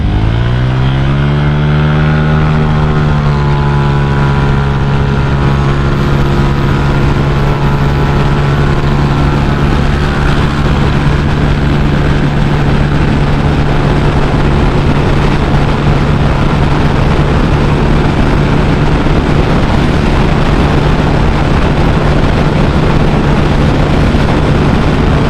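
Motorcycle fitted with a Seher 63 BRT exhaust accelerating hard, a loud, steady engine roar rising in pitch at the start and then holding a sustained drone, with heavy wind noise throughout.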